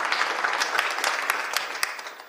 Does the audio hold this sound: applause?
yes